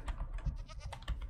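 A Minecraft goat bleats in short, quick wavering cries, several bursts packed close together at moderate volume with no voice over them.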